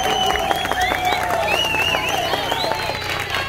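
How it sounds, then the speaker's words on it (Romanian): Crowd applause at an outdoor auto tuning show, steady dense clapping with a few cheers, while an announcer's amplified voice carries over it. "Haideți, un rând de aplauze!"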